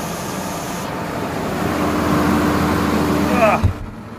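A Deutz-Fahr Agrotron 155 tractor engine hums steadily and its revs climb gradually toward PTO speed before dropping off abruptly near the end, with a voice speaking over it.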